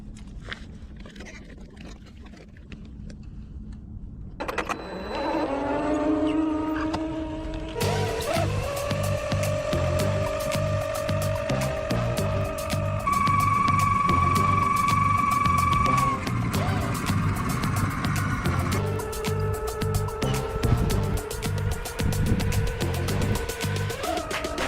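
A large 1/5 scale RC desert buggy 2.0 weighing about 14 kg runs its engine during a towing test, a droning motor that starts softly, then revs louder with shifting pitch and steady throttle changes throughout.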